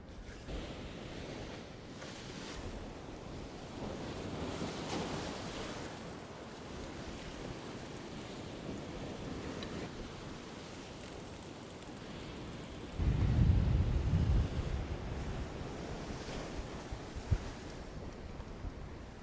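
Strong wind buffeting a microphone on the coast during rough-sea fishing, a continuous roaring rumble with surf mixed in and a heavier gust or wave crash around two-thirds of the way through.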